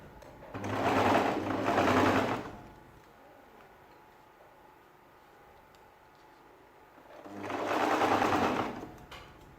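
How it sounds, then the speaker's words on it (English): A sewing machine runs a back stitch at half an inch on a ladies' shirt dress, making two steady whirring bursts close up with a quiet pause between them. "I'll drop and I'll start sewing this back stitch, like I said, at 1/2 inch"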